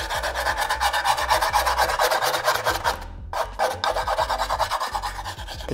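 A razor blade scrapes scooter grip tape in steady, repeated rasping strokes, loud and close, with a brief pause partway through before the scraping resumes.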